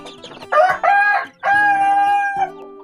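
A chicken gives loud, close, drawn-out calls, two short bursts followed by one longer cry, with a quieter fowl murmur underneath.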